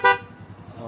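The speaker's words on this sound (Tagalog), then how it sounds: "So malakas pa rin ang busina kahit naka-mini driving tayo." A single short, bright honk of a Rusi Delta 125 motorcycle horn sounds up close, followed by a low idling engine.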